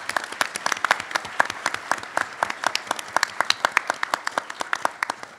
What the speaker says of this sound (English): we'll give you a round of applause here as they get started.